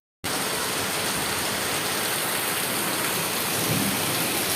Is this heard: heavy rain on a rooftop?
yes